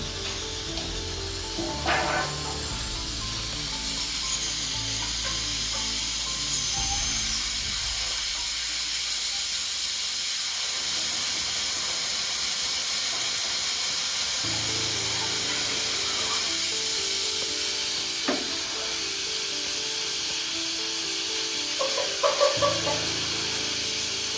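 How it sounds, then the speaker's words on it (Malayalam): Steam hisses steadily from a pressure cooker making coffee, a continuous close sizzle with faint low rattling underneath. "ഇനി ഒരു വിസിൽ വരുന്നത് വരെ നമുക്ക് വെയിറ്റ് ചെയ്യാം"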